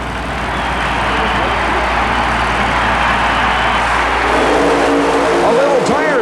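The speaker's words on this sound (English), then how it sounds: "The Bad Habit supercharged Chevrolet trying to qualify." A Bad Habit supercharged Chevrolet super-modified mud racer makes a qualifying run at a 1991 Oklahoma City mud race, its engine a loud, sustained roar under a commentator's voice, with rising whine-like sweeps near the end.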